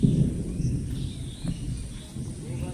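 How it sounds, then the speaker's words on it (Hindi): Thunder rumbles low and continuously ahead of the daily rain, a deep rolling sound that swells and fades over a few seconds, with a voice faintly present. "देखिए कैसे गुड़गुड़ कर रहा है, रोज यही टाइम पे हो रहा है बारिश"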